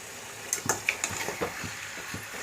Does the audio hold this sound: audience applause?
no